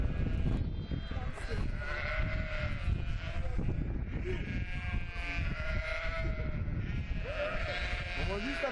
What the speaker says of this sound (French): Les brebis y paissent en totale liberté.